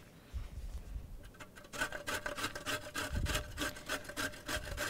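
A carrot is rubbed against a grater in a classroom kitchen, quiet at first, then settling into a fast run of rhythmic rasping strokes, close and fairly soft, with no talking.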